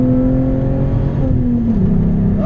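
A VW GTI engine revs through a MagnaFlow catback exhaust, a loud, steady, close-up drone whose pitch dips briefly before settling.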